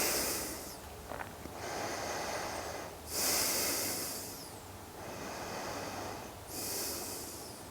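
Slow, deep breaths during a lunge stretch for the quads and hip flexors come in soft, airy waves, each inhale and exhale rising and fading in a steady rhythm against a quiet room.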